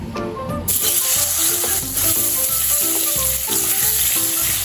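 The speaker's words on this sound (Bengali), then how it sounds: "এই তেলে আমি হলুদ লবণ মাখানো বেগুনগুলো ভেজে নেব।" Eggplant slices coated in turmeric and salt frying in hot mustard oil, a loud steady sizzle with crackles and occasional clinks of a utensil.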